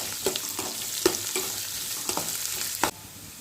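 Onions fry in a pan for a Tamil ivy gourd dish, a steady sizzle punctuated by rhythmic spatula scrapes and taps roughly every half second, close and clear, with no speech.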